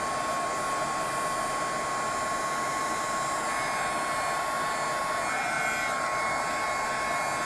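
A heat tool melts embossing powder on a fall greeting card with a steady, even, loud blowing whoosh and a faint high whine, unbroken throughout and close by.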